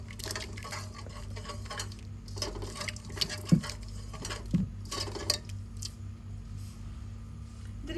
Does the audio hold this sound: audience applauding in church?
no